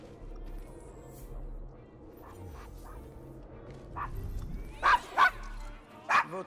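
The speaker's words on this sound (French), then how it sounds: "Votre chien a l'air fâché." A dog in the video game Assassin's Creed Syndicate, set in London's Devil's Acre, lets out several sharp, angry barks near the end, with background ambience and some faint talk before them.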